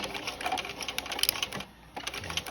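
A sewing machine sews a short 2.0-length stitch across the end of a waistband, whirring in quick bursts with a short pause in the middle, close and moderately quiet.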